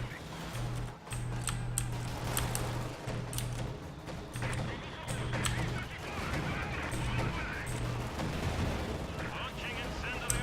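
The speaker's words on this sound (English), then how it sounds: "Launching incendiary artillery barrage." Incendiary artillery barrage in Company of Heroes 2, with repeated booming detonations and sharp impacts scattered across ten seconds over a busy battlefield din, under faint in-game voices and a recurring low horn-like tone.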